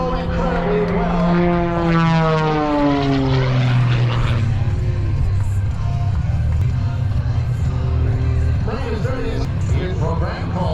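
Propeller aerobatic plane at an airshow sliding backward out of a torque roll, its engine droning loudly with pitch sweeping down and up across the whole stretch, continuous and close, with a faint announcer-like murmur beneath.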